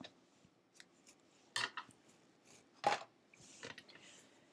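Scissors snip paper during Halloween star mini album crafting, a few crisp separate cuts around quiet handling noise, close and fairly faint, no talking.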